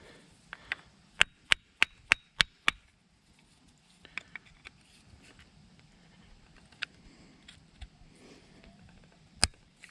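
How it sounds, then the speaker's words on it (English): Sharp taps on stuck flathead screws of a leaf vacuum, loosening them. A quick run of six evenly spaced knocks is followed by scattered lighter taps, close and clear against a quiet background. "If you can't get them to come out, I usually tap on them pretty good with something"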